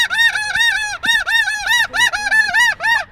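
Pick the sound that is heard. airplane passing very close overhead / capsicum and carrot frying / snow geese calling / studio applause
snow geese calling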